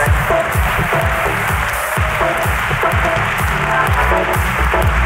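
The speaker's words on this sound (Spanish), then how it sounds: "¡Aplauso para Belén y su reina!" Live podcast audience applauds a guest named Belén and her companion, sustained crowd clapping with steady density throughout, over low rhythmic background music pulsing underneath.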